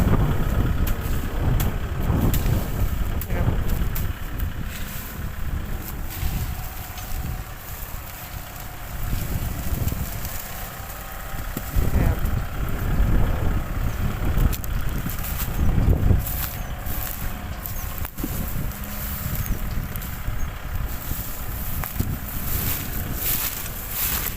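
Small Kubota B21 tractor driving a straddle-row sugarcane leaf-chopping machine, a continuous rough mechanical roar with rumbling bursts and strong wind buffeting over the microphone, heard outdoors for a long stretch without talk.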